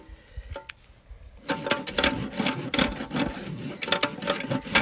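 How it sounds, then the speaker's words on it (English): A perimeter rasp files a horse's hoof while the toe is backed. After a quiet moment, loud, gritty scraping strokes start up close and repeat in a quick, steady back-and-forth rhythm. "Sometimes I just use to clean up my work with a little bit of a perimeter rasp just to see where I'm at."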